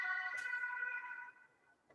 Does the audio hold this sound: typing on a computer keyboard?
no